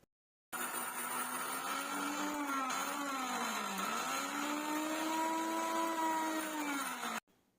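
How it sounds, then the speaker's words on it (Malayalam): A kitchen mixer grinder whirs as it grinds leaves with leftover rice water, starting abruptly and running loud and steady for about seven seconds, its motor pitch dipping and rising under the load, then cutting off. "മിക്സിയിൽ നിന്നും വെള്ളം കൂടി തെറിച്ചു പോകാത്ത വിധമായിരിക്കണം കഞ്ഞിവെള്ളം അല്പാൽപമായി ചേർത്ത് കൊടുക്കേണ്ടത്"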